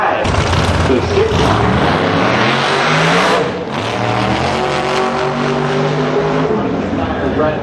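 A drag racing car accelerates hard down the strip, its engine roaring loud and close before the pitch shifts as it pulls away. An announcer talks over it throughout.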